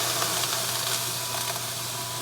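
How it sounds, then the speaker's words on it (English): Water poured into a pan beneath baking French bread in a hot oven hisses into steam, a steady broadband sizzle that carries on continuously and fairly loud, with no talking. "the steam is being produced"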